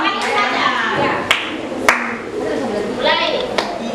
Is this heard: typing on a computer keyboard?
no